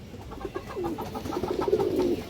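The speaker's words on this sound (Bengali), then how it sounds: "পুরোনো ব্লাডলাইনের একটা মুসলদম নর কবুতর মাসাল্লাহ অনেক সুন্দর একটা কবুতর" A Muslodom male pigeon from an old bloodline coos softly and repeatedly, the low throaty calls rolling into one another close by.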